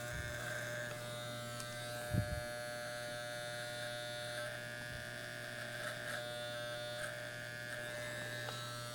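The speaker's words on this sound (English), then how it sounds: "It's a very sharp clipper." A sharp electric hair clipper cuts a man's hair close up for a side-part style, buzzing steadily and continuously as the blades run, with a brief louder bump early on and no talking.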